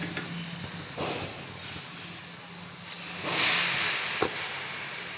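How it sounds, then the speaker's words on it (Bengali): Boiled red lentils cooked with pumpkin greens poured into a hot pan, giving a steady hiss and a louder steamy sizzle burst midway with a brief clank near the end, no talk. "কুমড়ো শাকের সাথে যে মসুর ডালটা সিদ্ধ করা ছিল ওটা আমি দিয়ে দিচ্ছি।"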